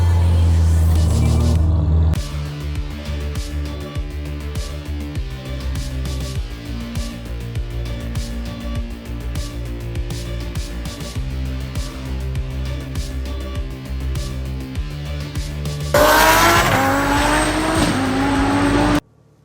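A Lamborghini Huracan driven fast on a road, its engine a steady loud roar throughout with a louder surge at the start and again near the end.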